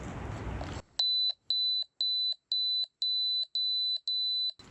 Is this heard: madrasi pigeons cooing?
no